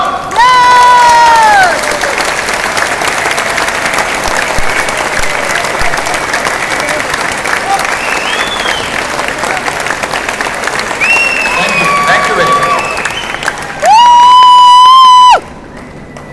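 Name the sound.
audience clapping and cheering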